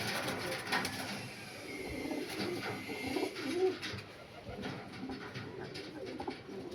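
Miravwale pigeons, a Punjabi Malwai breed, coo softly in a loft amid steady rustling and other bird sounds, with faint low murmuring throughout.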